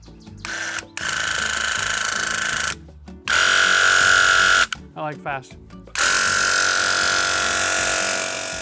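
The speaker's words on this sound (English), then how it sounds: "Now we're ready to spray. I should do a test." Bursts of a loud, hissing paint sprayer start and stop several times while test-spraying paint for a front door, with a whining motor tone and a short spoken remark between bursts.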